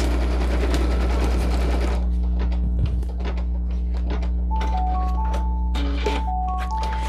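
An embroidery machine stitches a hooded towel up close, first in a dense, rapid run and then in a steadier, lighter rhythmic clatter over a constant motor hum, with a few brief electronic beeps toward the end.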